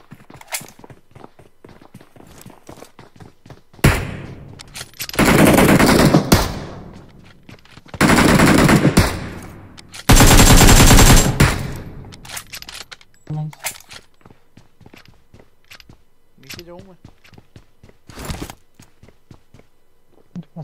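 Gunfire in the battle royale mobile game PUBG Mobile comes in several loud automatic bursts separated by scattered single shots and quieter stretches, with game sounds and speech in between.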